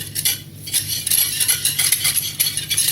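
A utensil stirs light cream into a spinach and bacon tart filling in a bowl, giving close, continuous scraping and clinking with a few brief pauses and no voices.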